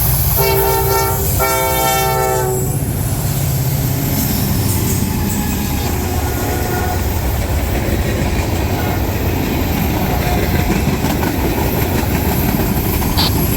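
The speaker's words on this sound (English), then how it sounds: "Trailing unit is NS-944CW number 9581, and this trail is leading NS-16R to Ayer, Massachusetts." NS freight train with a Norfolk Southern locomotive passing close, its horn blasting in bursts at the start, then a loud continuous rumble and wheel clatter of rolling railcars.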